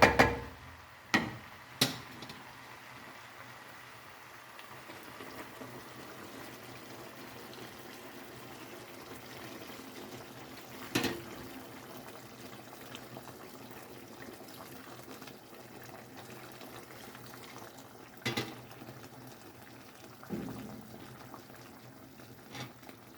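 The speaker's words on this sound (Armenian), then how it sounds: "Թեյնիկս արդեն եռում է" A kettle of water boils on a home stove with a quiet, continuous bubbling and rumbling, broken by a few sharp clicks and knocks near the start and at intervals later.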